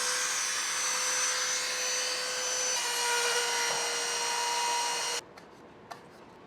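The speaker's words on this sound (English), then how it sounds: "So, Plan B is to Dremel a hole here." A Dremel rotary tool cuts a hole in the chassis of a Furitek Komodo Unity RC crawler, giving a steady high-pitched grinding whine that runs for about five seconds and then cuts off into near silence.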